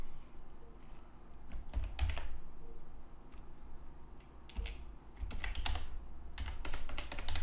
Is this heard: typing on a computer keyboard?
yes